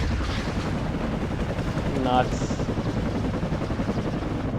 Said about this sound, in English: Let's watch some helicopter rockets go off. Some artillery in the background.